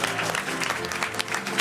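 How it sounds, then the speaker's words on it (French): Audience applause in a French television studio show, a dense wash of clapping with a few sharper claps standing out, steady and fairly loud throughout, with faint voices mixed in. "On peut l'applaudir, hein,"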